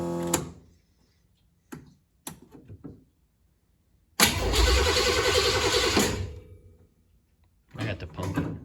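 Chevrolet Blazer truck engine being cranked: brief starter bursts, a pause, then a loud cranking roar that catches for about two seconds and fades, followed by another burst near the end, with short mechanical clunks between.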